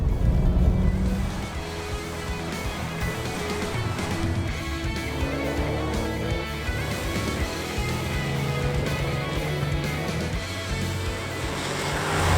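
A Nissan Skyline GT-R R34 driven on a small typhoon-damaged road, its engine droning steadily with shifting pitch beneath wind and road rumble, loud and continuous throughout.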